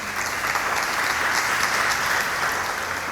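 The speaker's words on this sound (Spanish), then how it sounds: "Dale fuertes palmas al Señor." A church congregation at a Sunday fasting service claps loudly and continuously, a dense, even wash of applause filling the whole stretch with no talking over it.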